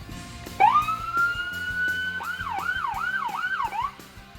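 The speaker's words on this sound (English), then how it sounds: "We have the sirens here, different modes I can." A police car siren rises into a long steady wail, then switches to a rapid yelping warble, loud and close.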